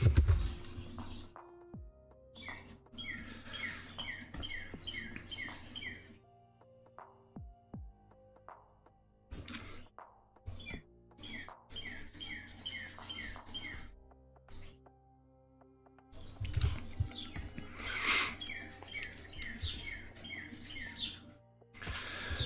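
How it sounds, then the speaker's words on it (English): Bursts of bright, rapid bird chirping come and go in quick trills, fairly close, separated by quiet gaps with faint background noise. "I also hear that bird chirping."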